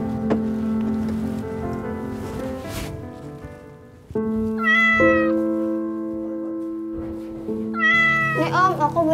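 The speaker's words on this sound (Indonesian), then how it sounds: "Kasian kucing ini udah nggak ada induknya." A motherless kitten meows repeatedly and plaintively, the close, rising and falling cries coming in several bursts with brief pauses, loud and clear with no talking.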